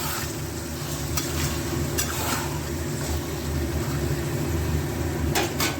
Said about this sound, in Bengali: এবার নুন দিয়ে দেবো, নুন দিয়েই কষাবো।